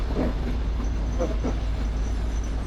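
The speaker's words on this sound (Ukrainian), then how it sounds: "Це виглядає міський поїзд Коломия Ділове. Прибуває на першу колію." A Kolomyia–Dilove city train arrives on the first track at Vorokhta station in the Carpathians, a steady loud low rumble of rolling cars with faint clicks throughout.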